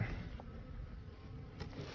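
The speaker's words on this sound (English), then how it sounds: "that's a box of bees" A steady, low insect buzz fills the air, a continuous hum of many honeybees in a hive box close by in winter, with no talking.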